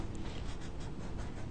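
A Sharpie marker traces slowly over pencil lines on a plastic CD for a rose window design, making a quiet, continuous, faintly squeaky scratching with soft strokes throughout.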